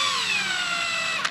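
Buffer running at slow speed while wet sanding a faded BMW headlight with an 800 grit disc, a steady whirring motor whine with tones that drift slightly downward, ending in a brief tap.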